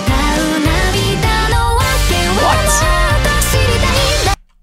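Excerpt from an anime opening for Frieren, a loud, dense full-band arrangement with layered vocal and instrumental lines moving through a deceptive cadence that resolves up a step to the 6 chord, cutting off abruptly near the end.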